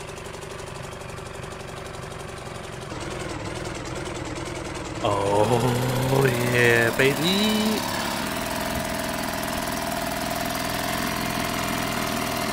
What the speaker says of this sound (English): That's a cute little engine.